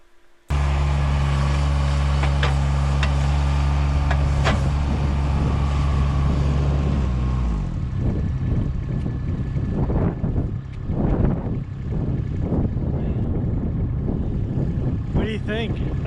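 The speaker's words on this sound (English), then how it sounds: "You'll get a bit of wind, but you'll see me driving around using the 2 speeds" A Baumalight mini TRL630D loader fitted with a log grapple drives around outdoors, its diesel engine droning loud and steady, then changing pitch as it shifts speeds, with gusts of wind buffeting the microphone.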